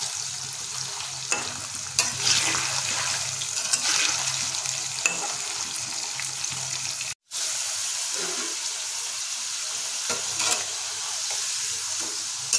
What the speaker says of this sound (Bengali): আলুগুলো সম্পূর্ণভাবে লাল লাল করে ভাজা হয়ে গেছে।